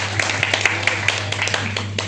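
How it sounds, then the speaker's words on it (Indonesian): A church congregation claps along in a brisk, uneven rhythm over a steady low hum from the hall's sound system. "Saudara boleh tepuk tangan kalau saudara mau."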